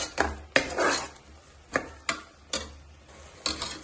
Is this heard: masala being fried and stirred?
yes